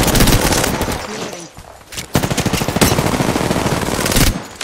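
Rapid automatic gunfire in Apex Legends on PS4, loud sustained bursts with a brief lull before another long volley, dense and close throughout.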